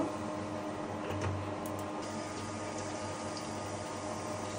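Cubed meat and dried chillies frying in mustard oil for a Rajshahi-style kala bhuna: a constant close sizzle and bubbling hiss with no one talking.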